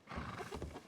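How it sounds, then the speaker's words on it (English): A horse whinnies in the Red Dead Redemption 2 roleplay game, a short, faint, wavering neigh lasting under a second. "Careful of that horse again."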